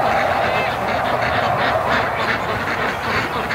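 Geese honking and quacking near a barn and creek, harsh repeated calls layered over a steady outdoor background, with a person talking among them.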